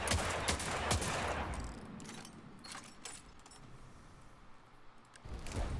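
Midnight Coup hand cannon in the video game Destiny 2, a quick run of heavy gunshots followed by the clicks and clacks of a fast reload and a final shot, close and loud with no talk.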